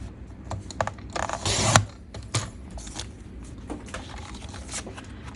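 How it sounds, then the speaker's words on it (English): Paper keepsake book picture being trimmed by hand, with scattered crisp rustles and cutting strokes close up, including one louder scraping burst early on, no voices. "I need to cut that down about 1 inch."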